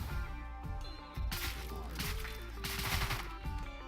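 Gunfire in the video game Deadbolt: several sharp bursts of shots over a game soundscape, with a louder cluster midway and another near the end, no talking.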